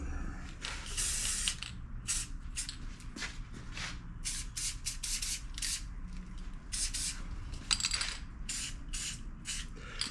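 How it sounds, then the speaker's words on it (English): Repeated short hissing bursts of an aerosol spray can, irregular and close, with faint rubbing and shuffling sounds between sprays. "So I am going to spray paint it."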